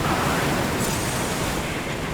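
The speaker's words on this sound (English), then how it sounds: "strong winds and waves," Strong wind and crashing waves from the Lies of P video game, a steady broadband roar of surf and gusts that stays loud and even throughout, with no voices.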